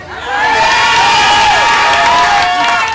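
A large crowd cheers and acclaims loudly and continuously, with shouts and whoops rising over a dense wall of voices throughout.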